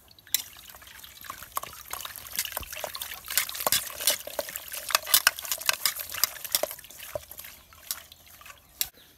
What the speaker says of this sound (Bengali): এখন আমি ধুয়ে নিব।